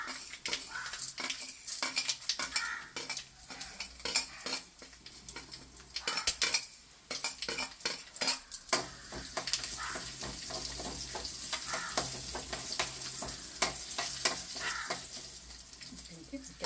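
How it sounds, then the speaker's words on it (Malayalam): Mustard seeds and urad dal sizzle and splutter in hot oil while being stirred for a Trivandrum-style jackfruit seed thoran, with a steady close frying hiss, scattered pops and spoon-on-pan clinks throughout. "കടുക് നന്നായി പൊട്ടാൻ തുടങ്ങി. ഇതിലേക്ക് ഉഴുന്ന് പരിപ്പ് ചേർത്ത് കൊടുക്കാം."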